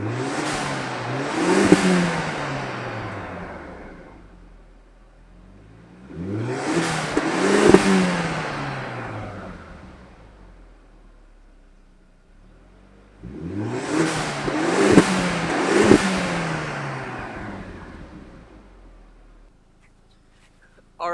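A car engine freshly fitted with a repaired exhaust flange, now free of leaks, revs up three times, each burst rising and fading back to a low idle between. The engine sounds close and loud, with no talking.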